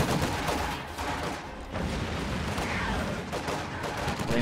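Grenadiers fire rifles at range in a World War II real-time strategy game. Dense, crackling gunfire and distant battle noise run continuously, with overlapping rattling shots throughout.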